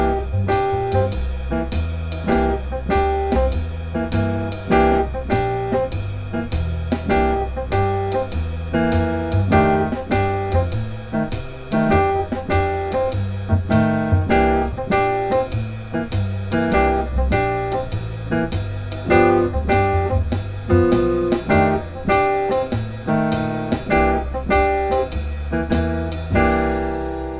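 Blues piano licks played over a full backing track with drums and bass, a steady dense groove throughout, no talking.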